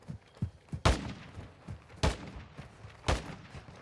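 Gunfire in Call of Duty Warzone: three loud, sharp shots spaced about a second apart ring out, with softer, more distant pops scattered between them.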